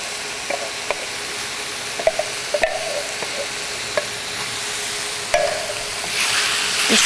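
Fire-roasted tomatoes sizzle and spit steadily in a hot pan with chicken, with scattered taps and stirring clicks from a utensil over the frying hiss, which swells louder near the end.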